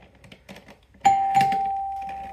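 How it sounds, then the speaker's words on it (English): An electromagnetic solenoid doorbell strikes once after a few faint clicks, giving a clear bright chime that rings on and slowly fades. "switch shorts out the first doorbell"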